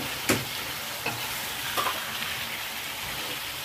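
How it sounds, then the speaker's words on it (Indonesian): Tofu and eggplant stirred with tauco in a frying pan, a steady sizzle of frying under scraping utensil strokes, a few sharper clinks against the pan, close and moderately loud with no talking. "Udah diaduk-aduk terus enggak?"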